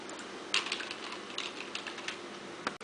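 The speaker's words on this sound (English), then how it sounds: "You see I'm typing this in there" Typing on a Saitek Cyborg computer keyboard, with a run of quiet, irregular key clicks and a few sharper taps heard up close, no voices present.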